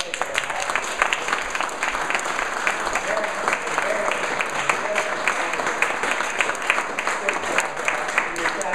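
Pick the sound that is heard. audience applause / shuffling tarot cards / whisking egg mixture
audience applause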